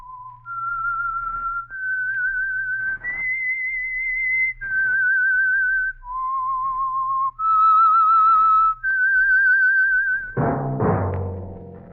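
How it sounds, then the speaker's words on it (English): A clear, solo human whistle carries the theme melody of the radio drama The Whistler, a series of sustained, slightly wavering notes, then a sudden orchestral sting at the end. "That whistle is your signal for the Signal Oil Program, The Whistler."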